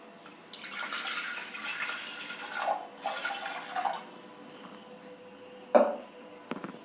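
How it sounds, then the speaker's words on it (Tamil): Water is poured into a switched-on pressure cooker for ridge gourd chutney in a home kitchen. The splashing pour comes in a couple of bursts, then a sharp metallic clink follows. No one talks. "ஆன் பண்ணிவிட்டு நம்ம தேவையான அளவு தண்ணி ஊற்றிக்கலாம்."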